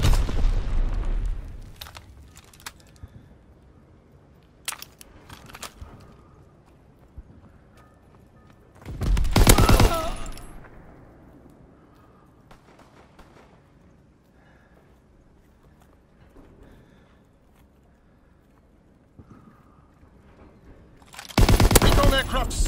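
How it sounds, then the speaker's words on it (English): Mortar rounds and bombs go off in a WWII video game as three loud, booming explosive bursts, widely spaced, with scattered smaller impacts and quieter battle noise between them. "Sending mortar rounds."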